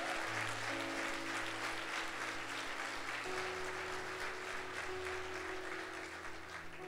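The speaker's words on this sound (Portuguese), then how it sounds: "Pode aplaudir o Senhor." A church congregation applauds at a Sunday service, a dense, steady wash of clapping that fills the whole stretch, with sustained organ or keyboard tones beneath it and no speech.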